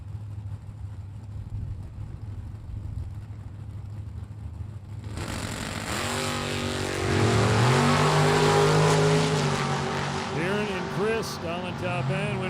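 Super Gas class drag race pitting a dragster against a Duster: quiet at first, then loud engines roar in abruptly and rise in pitch as the cars launch and accelerate, sustained and close, with a voice talking over them.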